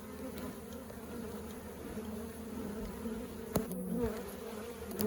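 Honeybees buzz around an opened hive full of burr comb in a bee yard, a dense, close, continuous hum with one brief knock partway through.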